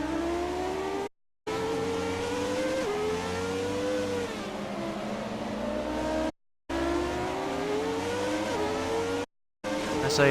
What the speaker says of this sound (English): The sound of this car though.